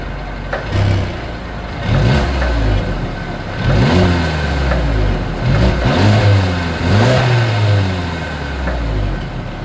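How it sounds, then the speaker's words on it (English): A 2022 Mercedes-Benz CLA 250 sedan's exhaust revs up repeatedly, loud and close, with rising and falling engine pitch across several throttle blips and no talking. "here is that exhaust clip"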